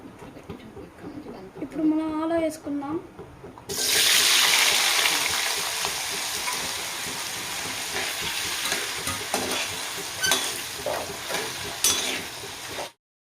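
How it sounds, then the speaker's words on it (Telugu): Potatoes drop into a pan of hot oil and cumin seeds; a voice speaks briefly first, then a loud sizzle bursts in and carries on steadily with occasional stirring crackles until it cuts off. "ఇప్పుడు మనం ఆలో వేసుకుందాం."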